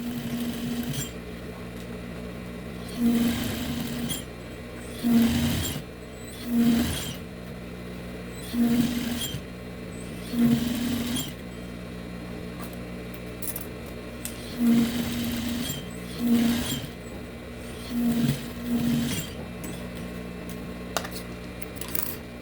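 Sewing machine backstitching along the side seam of denim for a farmhouse-style bread basket, running in short repeated bursts of rapid stitching separated by pauses, with someone talking quietly in between.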